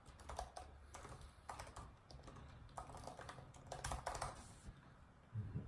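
Rapid clicking keystrokes from a computer keyboard as a website title is edited, a steady run of close, crisp taps with brief pauses and no voices.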